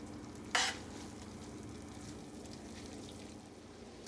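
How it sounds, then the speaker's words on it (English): Carbonara noodles are stirred in a pan. A soft, steady sizzle and bubbling runs throughout, with one brief sharp scrape of the utensil near the start, close and fairly quiet. "You're just gonna stir it up, coat the noodles. It's gonna get delicious. They're gonna cook up a little bit, about 2 minutes."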